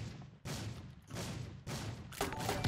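Gunfire rattles in Rules of Survival in four loud, dense bursts, each a rapid string of shots separated by short pauses.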